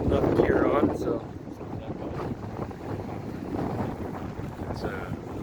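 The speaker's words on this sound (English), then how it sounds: "it's the wind is blowing my camera over." Wind buffets the microphone outdoors on a windy, chilly day in a steady, rumbling roar, with a person talking over it at times.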